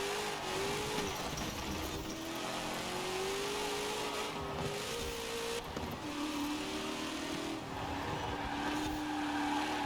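A car engine in a Forza Horizon racing game drones and revs with rising and falling pitch, shifting gears as it drives, steady and moderately loud with game music underneath.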